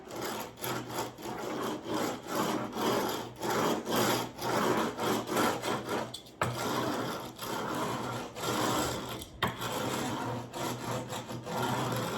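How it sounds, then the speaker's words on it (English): A check roller pressed over wet paint and plaster to form a barnwood grain, giving a close, steady scraping roll in repeated rhythmic passes with a few brief breaks. "And final step is my favorite, check roller."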